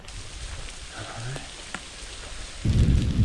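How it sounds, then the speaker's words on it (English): Rain patters steadily during a thunderstorm on a mountain trail, and a heavier burst of rain or thunder rumble comes near the end. A faint voice is heard in the background. "I am not complaining about the rain."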